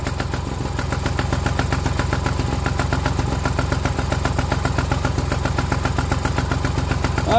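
A Stuart Turner engine idles steadily after repair with a rapid, even chugging pulse, close and constant throughout with no voices.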